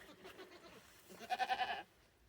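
Goats bleat from their shelter, with one loud wavering, pulsing cry near the end following fainter earlier calls, close by and without talk.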